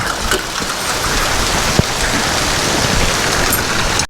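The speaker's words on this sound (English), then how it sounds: "That's rain." Steady rain falls and patters on surfaces outdoors, a dense, loud wash of drops with a few sharper taps, ending suddenly.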